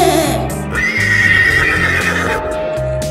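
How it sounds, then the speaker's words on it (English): A horse whinnies loudly and clearly, its rising and falling neigh carried over a bouncy children's song backing track with a steady rhythmic beat. "Horse says neigh."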